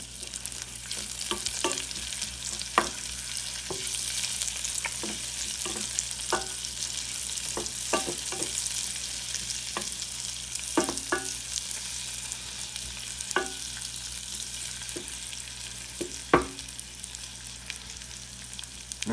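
Jalapeno sizzles and fries in a pan on a stovetop, a steady high hiss broken by repeated scraping and tapping strokes of a utensil stirring, close and fairly quiet with no talk.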